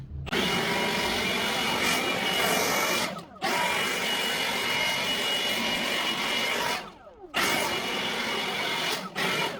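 Compressed air blasts dirt off a Chevy 350 engine in three long, loud, hissing bursts separated by short pauses.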